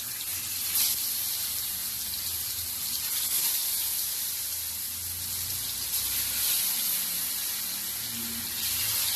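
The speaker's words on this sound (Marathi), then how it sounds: "बाकी जो आहे ते पण मी तशीच पद्धतीने फ्राय करून घेऊ" Slices of ash gourd fry in a pan with a steady, close hiss and sizzle of hot oil that runs unbroken throughout, with no one speaking over it.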